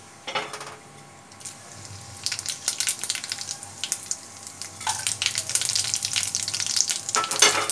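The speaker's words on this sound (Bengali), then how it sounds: "আমি কড়াইতে আর একটু তেল দিয়েছি, দিয়ে এবার সমস্ত মশলাগুলো ফোড়ন দিয়ে দেবো।" Whole spices tempering in hot oil in a wok for a Bengali potol chingri dish, with bright, crackling sizzle that swells and fades, broken by scraping stirs and spoon taps, close and steady with no talk.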